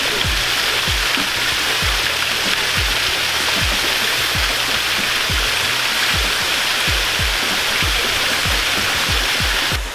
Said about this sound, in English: that basically turns on the waterfall